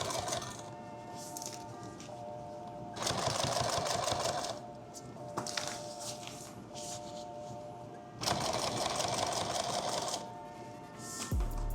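Sewing machine stitching a custom bag, running in a few short bursts of rapid mechanical whirring over a continuous low background hum, fairly quiet and close, with no voices.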